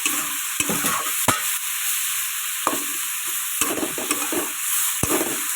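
Halan cho greens cooking with shrimp and potato in a pan give a steady close sizzle, broken by a few sharp scraping strikes of a spatula as the mix is stirred.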